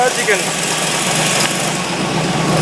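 A Model A car fitted with a Chevy 327 engine runs steadily and loudly up close, a broad continuous engine roar with little variation throughout.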